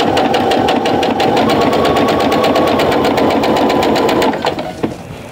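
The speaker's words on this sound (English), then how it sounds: "we're just gonna stitch now" A sewing machine stitches flying geese quilt triangles with a loud, fast, steady needle rattle close by. It runs for several seconds, then slows and stops with a couple of final clicks, and no one speaks.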